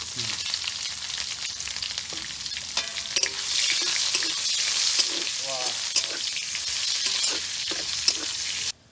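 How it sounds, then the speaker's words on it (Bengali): Whole bay leaf, cumin and chopped onion fry in hot oil in a pan, a loud steady sizzle close up with occasional clinks and stirring scrapes throughout. "গোটা তেজপাতা আর একটু জিরে দিয়ে দেবো আর একটু পিঁয়াজ কেটে রেখেছিলাম পিঁয়াজ দিয়ে দেবো"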